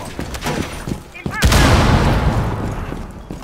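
A bomb explosion impact in Rainbow Six Siege, a sharp loud blast followed by a long rumbling roar that slowly fades, preceded by brief game sounds.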